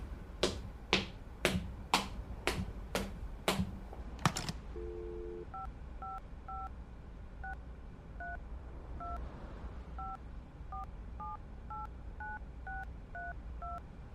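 Phone number dialed on a telephone keypad, a quick run of about seven tones, a short pause, then a long series of faint repeating two-tone ringing pulses.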